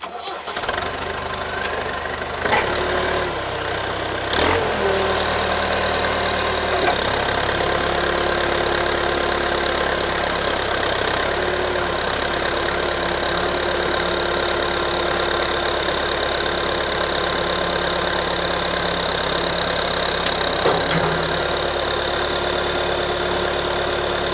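A JCB SiteMaster backhoe engine cranks and catches, then settles into a steady, loud diesel idle with a rough knocking rumble that continues throughout.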